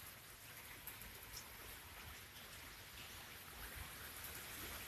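Steady rain falls as water drops, a soft, even hiss of raindrops with no pauses, faint and continuous, with no voices.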